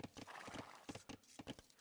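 Horse hoofbeats clip-clopping with an occasional whinny inside an Age of Empires-style strategy game, several rapid irregular steps in bursts, moderately loud with no talk over them.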